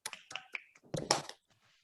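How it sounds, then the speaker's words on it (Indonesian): A small group in a classroom gives a brief burst of scattered clapping, a few quick sharp claps that fade within two seconds. "Tepuk tangan dulu."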